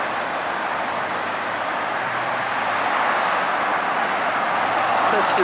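Vehicles pass in both directions along a street in Cambridge, Massachusetts, a continuous traffic roar that grows a little louder toward the end, with a voice faintly present beneath it.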